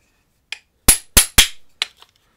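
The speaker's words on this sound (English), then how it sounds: "if you get it just right and whack it with a hammer" A hammer strikes a punch to drive the roll pin out of an Abus padlock, making four or five sharp, loud metallic whacks close by with brief ringing after each, without talk.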